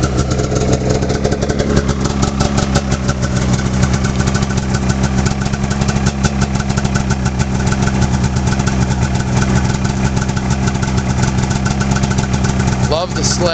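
2004 Arctic Cat F6 Snopro EFI snowmobile engine idling, loud and close with a steady rapid pulse throughout, a person speaking over it.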